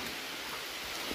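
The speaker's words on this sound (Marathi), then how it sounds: "पावसाला सुरुवात झाली जोरदार." Heavy rain falls at night, the first rain of the season, in a steady, dense, even hiss with no voices.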